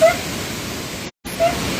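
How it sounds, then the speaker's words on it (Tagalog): Floodwater rushes under Layawan Bridge in Oroquieta City, a broad, steady roaring hiss close by, with a brief dropout in the middle. "Grabe ang sa baha guys."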